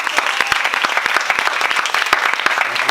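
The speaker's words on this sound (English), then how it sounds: "let's give Barbie a round of applause." A room of listeners gives a speaker at a women-in-real-estate talk a round of applause, brisk, close, continuous clapping from a modest crowd.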